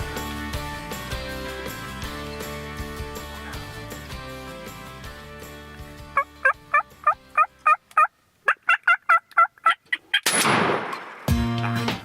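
Wild turkey jakes gobble in a rapid run of loud, close calls, each gobble repeated in quick succession, followed by a burst of flapping and scuffling as the birds fight, after a stretch of layered music.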